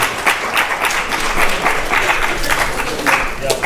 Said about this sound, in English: Please give a big round of applause to